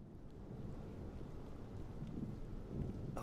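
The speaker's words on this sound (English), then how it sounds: "Listen to that storm though." Thunderstorm with steady heavy rain and low rolling thunder in a flight simulator, an A320 flight from Pamplona to Madrid, a continuous dense wash of sound at moderate level with no voices.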